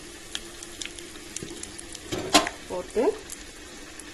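Mustard seeds, curry leaves, green chillies and asafoetida sizzle in hot tempering oil for a South Indian moor kulambu, with soft crackling and a few sharper spits under a brief spoken word.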